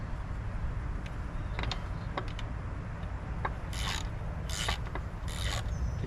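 Ratchet working on bolts of a 1973 Evinrude outboard motor, quiet metallic clicks and short bursts of pawl ratcheting over a low hum, with scattered tool taps.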